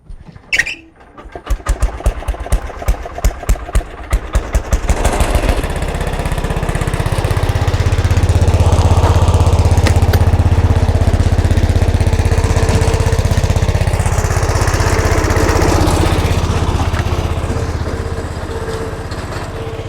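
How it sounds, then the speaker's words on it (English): A tiller in a carrot field pulls into life with rapid chugging engine pulses, then settles into a loud, steady, close engine roar that holds and slowly wavers as it works. "The tiller is loud, so as soon as she turns it on"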